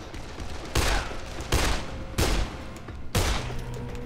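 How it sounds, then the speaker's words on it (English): Gunfire in Dead Island, four loud, evenly spaced rifle shots, each a sharp crack with a short decaying tail, over a quiet game background. "Okay, shooting through the scenery."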